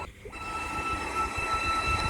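Gordon the steam engine rolls to a slow stop with a steady rumble of rail wheels and faint, high, sustained squeals of braking.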